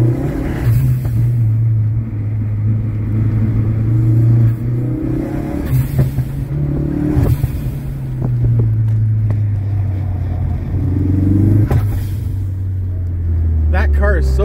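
A car accelerates around a track at a drive festival, its engine droning steadily and rising in pitch in repeated surges, with wind buffeting the microphone and people talking over it.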